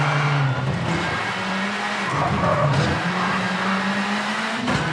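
A rally car in V-Rally 4 slides its rear end round a corner, the engine droning loud and close while tyres squeal and scrub, with the pitch dipping and rising again.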